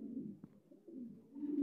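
A pair of king pigeons on a farm make soft, low, throaty cooing that rolls on continuously and swells toward the end, close by and fairly quiet.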